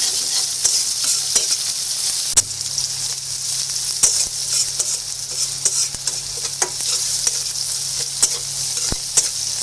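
Onions fry in a pan until reddish, filling the whole stretch with loud, close sizzling. Repeated sharp scrapes and knocks of a spatula stirring them cut through, and nobody speaks.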